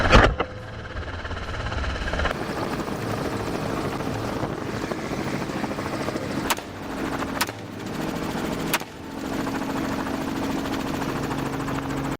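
A helicopter drones continuously overhead during a wild boar hunt, its rotor thrum steady throughout, with a few sharp gunshot cracks breaking through.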